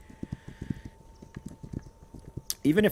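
Horse hooves clip-clop at a steady walking rhythm in the video game This Land is My Land, close and moderately loud, ending in a louder burst that may be a whinny or voice.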